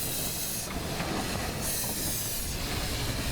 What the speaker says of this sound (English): filmed his steam train in the rain